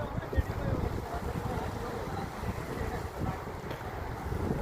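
Cold wind off the sea buffets the microphone in a low, gusty rumble, with a steady wash of waves beneath and occasional louder gusts.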